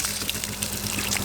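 Water pours steadily from a hose fed by an off-grid summertime water source in Alaska, a close, continuous splashing gush lasting just over a second.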